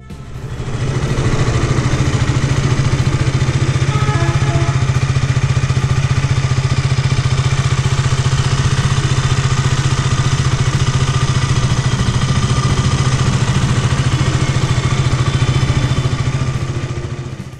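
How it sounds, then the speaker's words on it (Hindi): A BS6 KTM 200 Duke motorcycle idles steadily through its exhaust, a loud, continuous mid-pitched engine throb with a faint mechanical clatter, running unbroken for about seventeen seconds with no talking. "चलिए इसकी एग्जॉस्ट साउंड एक बार सुन लेते हैं"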